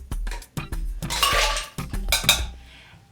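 Ice cubes clatter and clink into a blender jar or glass for a Dole Whip drink made with coconut rum, several quick bursts of hard knocks and rattles close by, with no talking.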